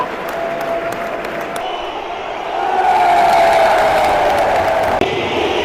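A huge stadium crowd at San Siro roars and applauds during a Champions League semifinal, a loud, continuous wash of sound that swells midway and stays heavy to the end.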